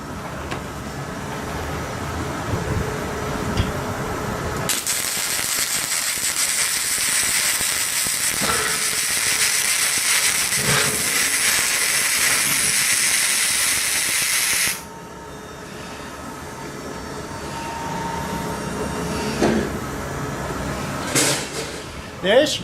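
Weldtech 140A MIG welder laying a bead on a metal plate, a loud steady crackling hiss held for about ten seconds, with quieter hiss and handling noise before and after.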